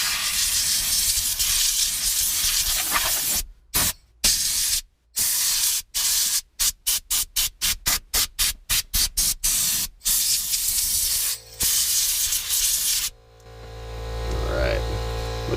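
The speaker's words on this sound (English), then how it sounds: "I'm going to hit it with compressed air to make sure all the loose stuff is off" Compressed air sprays in sharp hissing blasts to clear debris off a fuel pump part during a Deatschwerks pump install, first in a few long bursts and then in rapid short pulses, close up over a low hum.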